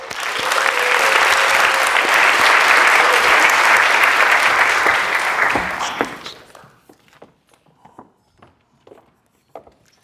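An audience applauds to welcome speaker Hope Andrade, a loud, sustained round of clapping that fades after about six seconds into scattered claps and footsteps.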